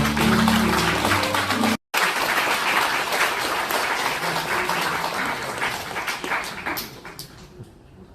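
A wedding crowd claps steadily in blessing as the mothers of the bride and groom light the ceremonial candles. Dense, sustained applause with a brief cut-out, thinning slightly toward the end.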